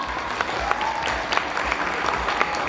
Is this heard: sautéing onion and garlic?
no